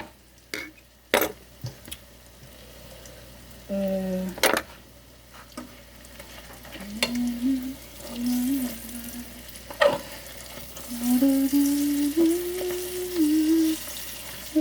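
Sfenj, Moroccan doughnut dough, fries in hot oil with a soft steady sizzle and bubbling, close and fairly quiet, broken by a few utensil clinks and scrapes against the pan.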